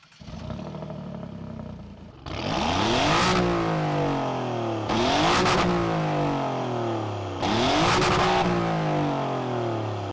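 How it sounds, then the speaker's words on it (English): A 2022 Alfa Romeo Giulia Quadrifoglio with a Ferrari-derived engine and Monza quad exhaust revs hard three times in a row, each loud blip climbing and falling back over a rough, rumbling idle. "You got the Monza exhaust for your Ferrari derived Giulia Quadrifoglio"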